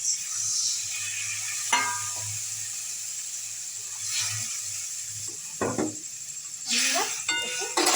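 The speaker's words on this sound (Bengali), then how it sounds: "সেদ্ধ হওয়ার জন্য জল দিয়ে দিলাম" Water poured over potatoes sautéing in a pan for aloo dum gives sharp bursts of steamy hiss and sizzle, mixed with light clanks of a utensil against the pan and a low background hum.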